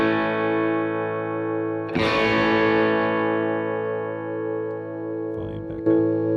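An electric guitar played through a ToneX One pedal with the gain turned up rings out in sustained distorted chords, one strummed hit swelling and fading, then a couple of quieter picked notes near the end, loud and close with no talking.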